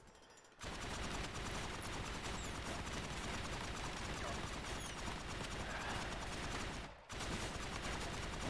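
Dense, continuous gunfire rattles on and on in the RimWorld video game, a crackling barrage of rapid shots with one brief break near the end.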